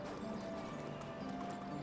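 Horse hooves clip-clop at a steady pace in the video game Medieval Dynasty, faint and continuous under a dense game soundscape.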